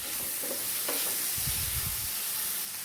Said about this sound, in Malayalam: നല്ലതുപോലെ വഴറ്റി കൊടുക്കാം.